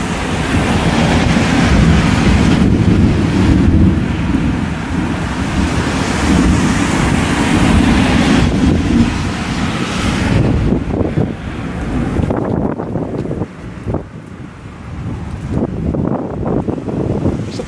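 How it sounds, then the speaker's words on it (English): Heavy rain and gusting wind roar in a severe evening thunderstorm in Westbury, a loud, dense wash of noise with heavy microphone buffeting that eases and thins out over the final seconds. "The rain is starting to die off a little bit."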